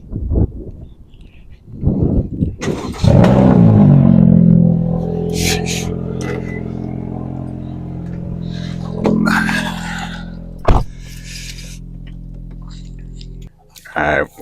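A straight-piped Honda Civic engine cold-starting at night, a loud raw crank that settles into a steady rumbling idle, with someone talking over it near the start.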